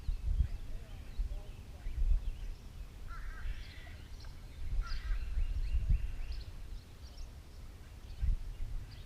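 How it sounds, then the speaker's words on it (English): Geese honk faintly in the distance in a series of scattered calls over an outdoor background of low wind rumble, while a person talks nearby. "Some dogs and geese going back there."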